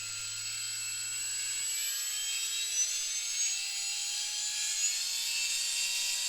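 Model gas engine driving a small generator, a high, steady whining drone that climbs gradually in pitch as the throttle is turned up, continuous and close.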